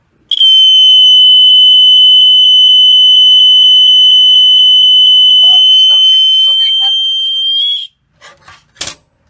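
A vintage BRK 1200 smoke alarm being tested emits one loud, piercing, continuous high-pitched tone for about seven seconds, then cuts off, followed by brief handling noises and a sharp click.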